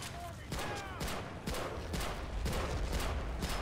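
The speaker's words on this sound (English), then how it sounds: "You can just open fire at the enemy." Soldiers fire guns on a beach in the video game 3000 Miles to Tokyo: rapid, sharp bursts crackle in a steady volley, closely spaced and loud, with faint talk in the background.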